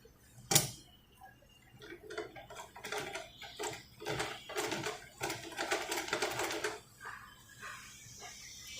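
Sewing machine stitching fabric after threading, a rapid mechanical ticking that runs in bursts, starting and stopping several times and quickening toward the middle before easing off.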